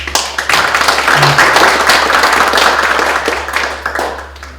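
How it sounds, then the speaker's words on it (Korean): Hall audience at a magazine association innovation forum gives a lecturer a sustained round of steady, fairly loud applause that holds for several seconds before easing off. "다시 한번 힘찬 박수 부탁드리겠습니다."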